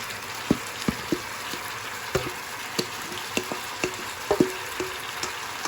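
Chicken pieces and vegetables fry in a pot for a curry chicken dish, giving a steady low sizzle broken by sharp pops and clicks of stirring, close by and with no talking.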